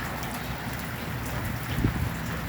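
Steady rain falls outdoors on a wet early-spring day, a constant even patter of drops with a soft low rumble beneath and no voices.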